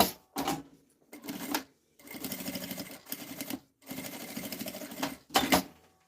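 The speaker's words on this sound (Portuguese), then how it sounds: "E passo uma costura aqui." Sewing machine stitching a fabric bias strip, several bursts of rapid mechanical chattering separated by short pauses, close and clear.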